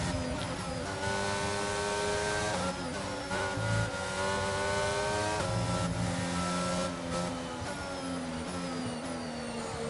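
Formula 1 race cars in the F1 2021 video game at the Miami circuit drone with a loud, sustained high-revving engine whine, pitch rising and dipping through gear changes across the whole stretch, with no talk.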